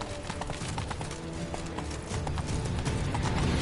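A horse galloping in The Witcher 3, with rapid rhythmic clip-clop hoofbeats running continuously and close over a steady background rumble.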